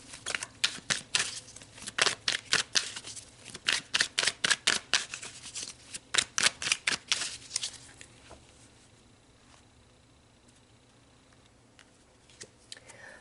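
Tarot cards being shuffled up close in quick bursts of crisp riffling clatter, dozens of rapid flicks over several seconds, then settling into quiet rustling.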